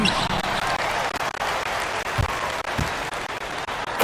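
A home crowd applauds at a video game basketball match, steady loud clapping that fills the whole moment with no voices over it.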